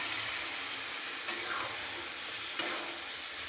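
Vegetables, including pumpkin, are tipped into hot spiced oil and sizzle with a steady hissing fry. A couple of sharp clinks cut through.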